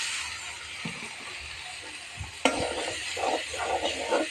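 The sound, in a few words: prawns frying with onion and spices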